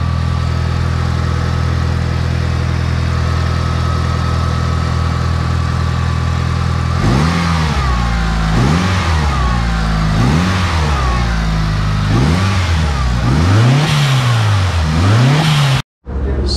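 A Mitsubishi Evo engine, after an EGR and SAS delete, idles steadily and loudly up close, then gets a series of sharp throttle blips, each rev rising and falling quickly, five or six in a row with no talk.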